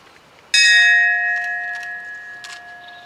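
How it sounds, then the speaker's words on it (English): A ceremonial bell is rung once at an evening memorial ceremony by a fire chief and a police officer, giving a loud clear metallic strike that rings on and slowly fades, with faint background rustle and no talk. "And this evening we are asking the ringing of the bell be performed by Mike Moore, our Barnegat Fire Chief"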